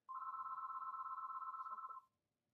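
A single telephone bell rings in one continuous trilling burst lasting about two seconds, then stops, heard clearly and alone at moderate level indoors.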